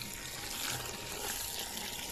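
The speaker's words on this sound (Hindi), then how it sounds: "व्हील पे पानी मारो पहले, ताकि हाँ थोड़ा मेल उतर जाए।" Water sprayed onto a car wheel during a home car wash, a steady hissing, splashing stream that runs loud and continuous throughout without a break.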